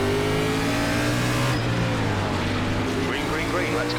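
NASCAR race cars in the iRacing video game accelerating at a race start at Las Vegas Motor Speedway, a loud continuous engine drone with climbing revs and layered cars, under steady commentary talk.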